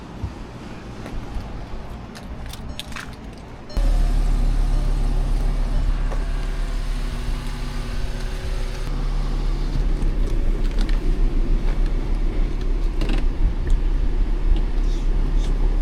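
A used car on a test drive: its engine starts a few seconds in, then a steady, close cabin rumble and road noise carry on evenly through the rest of the drive.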